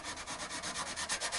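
A BananaClip sanding tool scrubs back and forth in close, steady rhythmic strokes, each pass a rough rasping rub, with no voices over it.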